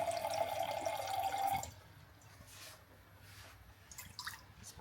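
About 100 grams of water pours into a measuring cup for dough, a steady close trickle for under two seconds before it stops, leaving quiet kitchen room noise.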